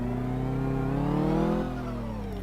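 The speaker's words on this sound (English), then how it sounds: "Loving that weird reverse sound." A car engine drones steadily with a rising whine, then drops in pitch near the end, a mechanical reversing sound in Car Mechanic Simulator 2014 with no voices.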